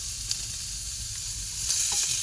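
Meat browning for shepherd's pie in a pan over moderate heat, a steady soft sizzle and crackle of frying heard close and alone, with a slight stirring scrape near the end.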